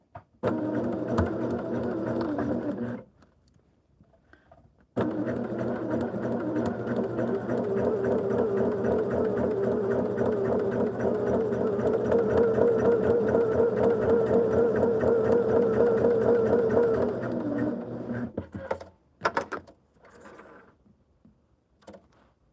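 A sewing machine runs steadily stitching a quilt block, a close continuous whir broken by one short pause near the start and stopping with a few clicks at the end.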